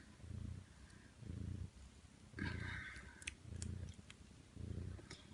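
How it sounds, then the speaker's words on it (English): Ten-day-old foster kittens purr steadily up close, a soft rhythmic rumble that swells and fades in five or six even cycles, with faint clicks and a brief higher mew-like sound partway through. "So these are foster kittens."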